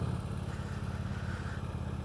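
A motorcycle engine drones steadily and close while riding, a low throbbing rumble with a slight clatter running through the whole stretch and no talk over it.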